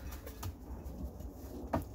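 Pigeons in a loft give soft, low cooing calls, with a few brief coos and faint flutters over a quiet indoor background and no talking.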